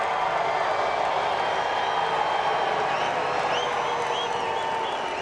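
Sellout crowd cheering and applauding after a NASCAR Cup Series race at Pocono Raceway, a dense steady roar of clapping and whoops with scattered whistles, sustained throughout.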